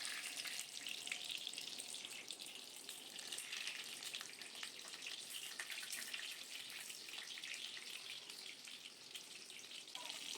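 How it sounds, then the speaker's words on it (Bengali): Pieces of pointed gourd (potol) fry in hot oil in a wok, a steady dense sizzle and crackle that runs unbroken and fairly loud throughout, with no voices. "কড়াই গরম হয়ে গেছে, তেল দিয়ে দিলাম পটল ভাজার জন্য"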